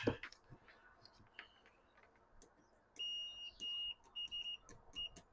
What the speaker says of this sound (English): So just confirm that with the continuity test here.